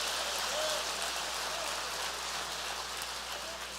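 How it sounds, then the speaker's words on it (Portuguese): A church congregation applauding, a sustained, even wash of clapping that sounds dense and rain-like, moderately distant and holding steady throughout. "Pode dar uma salva de palmas ao Senhor, querido."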